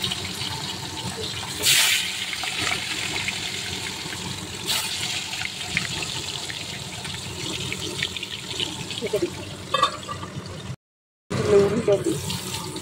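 Small fish coated in mustard oil drop one by one into hot oil and fry with a continuous watery hiss, punctuated by a few sharper bursts of sizzle.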